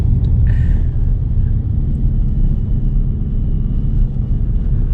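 A 2-litre Volkswagen Polo GTI engine in sport mode gives a steady, loud, deep rumble that holds throughout, with no breaks or revving peaks.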